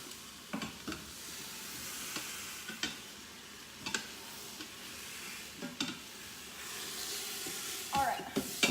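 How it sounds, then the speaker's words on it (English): A roast sears in a hot pan with a steady, quiet sizzle throughout, broken by a few sharp clicks and scrapes of tongs moving the meat. "I'm gonna flip our roast super fast and then come back and chop these."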